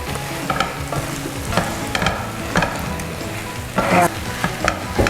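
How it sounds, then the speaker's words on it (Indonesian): Meat for tongseng being stirred in a hot pan, with a steady sizzle of frying and repeated scraping strokes of the spoon at a close, even pace, with no talk. "Ini kita aduk dulu sampai rata supaya dia meresap ke dalam dagingnya."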